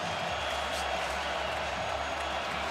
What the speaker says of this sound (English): Now the Florida crowd's got something to cheer about here.